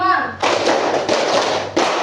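A classroom group claps together in a rhythmic counting pattern: a brief voice, then three loud, close bursts of massed hand clapping.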